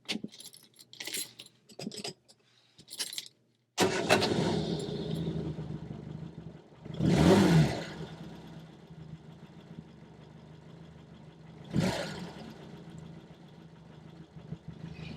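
Keys jangle briefly, then a Reliant Regal three-wheeled car's small 700cc engine cranks and settles into a rough, steady idle nearby, with two short revs rising above the idle.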